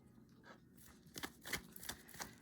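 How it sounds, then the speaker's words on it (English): Playing cards riffled and shuffled by hand during a tarot-style reading, a quiet run of soft papery flutters building into several sharper bursts of riffling, close to the listener with no voices. "I'm actually going to finish shuffling off camera."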